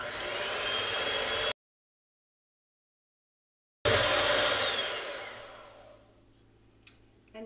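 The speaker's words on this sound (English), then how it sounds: "use a hand mixer to blend that up really well" A hand mixer whirs through muffin batter with a loud, steady high-pitched buzz. The sound cuts out briefly, then returns at full strength and winds down to quiet near the end.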